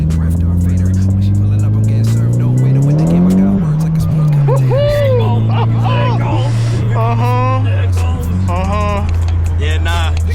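Right-hand-drive bagged Nissan Silvia S14 on high boost drifting with wheels spinning: a loud, sustained engine drone rising and falling with revs, overlaid by wavering tire squeal and skidding, while people talk inside the car.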